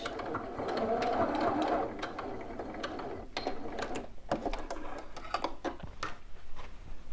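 A sewing machine back stitches along a bodice seam, a loud, close, steady mechanical whir with fine rapid ticking that shifts pace partway through.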